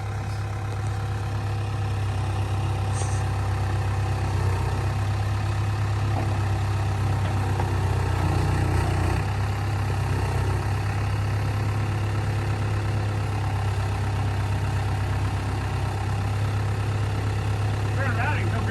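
An excavator engine idles steadily at close range, a constant low diesel hum with a slight rise in the middle, running throughout without pause.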